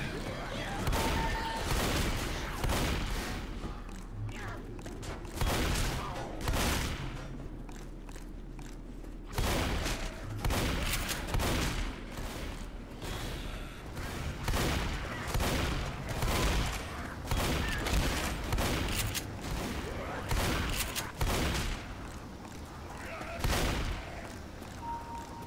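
Shotgun blasts in the zombie shooter Left 4 Dead ring out repeatedly in irregular bursts, loud booming reports scattered across a long stretch of game combat, with voices talking over parts of it.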